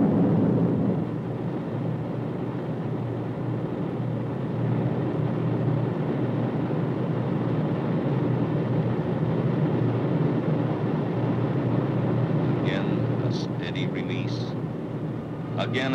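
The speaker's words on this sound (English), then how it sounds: "Once again, a countdown, the blast furnace roar of engines." An Atlas ICBM test rocket launching in late 1957 gives a sustained, heavy roar, a broad and steady rumble that fills the whole stretch, with faint higher chirps near the end.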